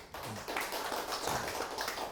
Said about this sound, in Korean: 자, 모세 앞에 우리가 박수 한번 쳐야 돼요